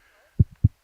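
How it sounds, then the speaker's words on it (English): Two soft, low thuds of a heartbeat, close and muffled, in an otherwise quiet moment. "that sound you're hearing is my heart about to explode"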